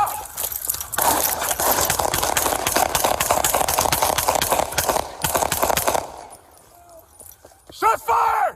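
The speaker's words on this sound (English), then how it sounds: "Shots fired!" Gunfire crackles in a rapid, dense exchange of shots during a police pursuit, loud and sustained for several seconds before cutting off, with people shouting over it and near the end.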